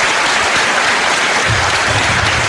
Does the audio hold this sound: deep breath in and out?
no